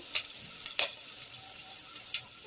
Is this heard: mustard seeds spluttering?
yes